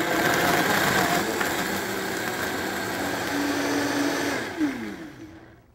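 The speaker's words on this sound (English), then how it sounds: "Press on and it'll stop automatically when the mixture is completely blended" A Vitamix 500 Series blender runs its smoothie preset with a loud, steady whirring roar that holds for several seconds, then winds down and stops on its own.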